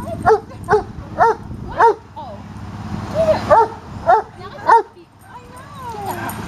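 A puppy gives a series of short, high yips and barks in an uneven rhythm, close and clear, trailing into a soft whine at the end.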